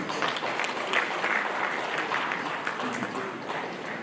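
A room full of people at an annual general meeting in Umuahia claps steadily for a few seconds, a dense, even patter of applause.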